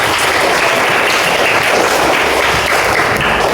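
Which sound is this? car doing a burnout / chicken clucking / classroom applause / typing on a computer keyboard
classroom applause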